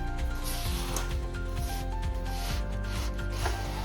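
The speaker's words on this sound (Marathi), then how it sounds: "सतत याला परतवत राहायचं आणि एकजीव करून घ्यायचं" Sesame seed and jaggery ladoo mixture stirred continuously in a pan over a low flame, giving a steady close scraping and rubbing texture with irregular strokes throughout.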